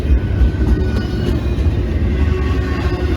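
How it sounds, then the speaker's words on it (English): A loud, steady rumble of a locomotive rolling past close by at a railroad crossing, with heavy low-end roar and faint rhythmic clatter throughout. "As soon as the locomotive passes, the gates will go right back up."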